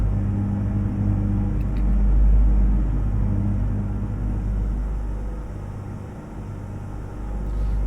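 International 9800 cab-over truck engine in American Truck Simulator idling low around 990 RPM, a steady close diesel rumble that swells slightly then eases, with no talk.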